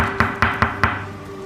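Four evenly spaced knocks on a closed door, a sharp rapping sound effect in a Bengali horror audiobook, close and clear with no voices.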